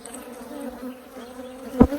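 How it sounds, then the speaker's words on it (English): Bees buzzing in a busy apiary during hive splits, a continuous close drone with steady tones and a brief louder fly-by near the end. "we're in this apiary. It's absolute mayhem, bees everywhere"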